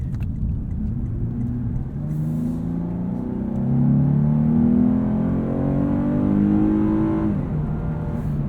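A 2022 Lexus RC 350 F Sport AWD with a V6 and six-speed automatic accelerates from inside the cabin. The smooth engine note climbs steadily in pitch, then drops back as a gear changes, with no talking.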